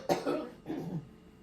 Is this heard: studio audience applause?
no